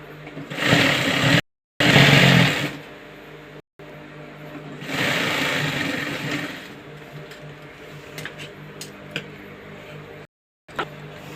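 A sewing machine stitches fabric in several sustained whirring runs, loud and close, broken by short pauses between bursts, followed by quieter clicks and handling noises.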